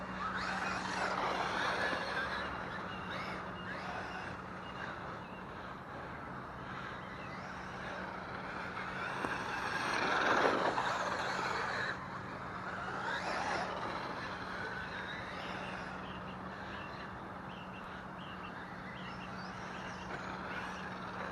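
A Traxxas Maxx 3S RC truck drives laps outdoors, giving a steady, fairly loud motor and tyre rush with a brief surge near the middle. No one talks.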